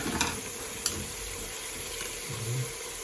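Rice and lentils with ginger, turmeric, bay leaves, cinnamon and cardamom fry quietly in a pot, a soft sizzle with a couple of sharp stirring clicks, faint and close.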